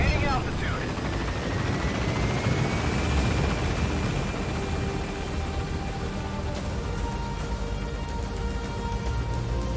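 A helicopter gaining altitude in Metal Gear Solid V, a steady loud rotor drone and engine whine throughout, with speech present alongside it.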